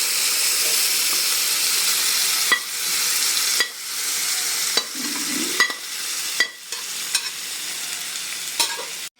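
Mutton sizzles and hisses steadily in a hot pan, with repeated sharp scrapes and clinks of stirring at irregular intervals.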